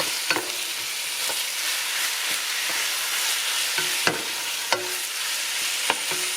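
Chicken and sweet potato red curry stirred in a hot pan: a constant close-up sizzle with intermittent scrapes and light knocks of the spoon against the pan.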